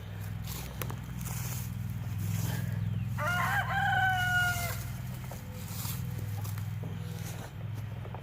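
Chicken calls from a backyard garden flock, heard as a single clear rooster-like crow or cackle lasting about two seconds mid-clip over steady low background hum, moderately near.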